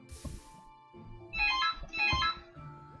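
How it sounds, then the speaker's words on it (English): A phone ringtone goes off in two loud, tonal bursts about half a second apart, standing out clearly over a quiet background in a room. "The phone has to go off."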